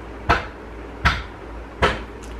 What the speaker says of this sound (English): That hammering, if you can hear it, is my dad outside doing something.